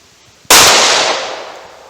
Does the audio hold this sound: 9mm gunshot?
yes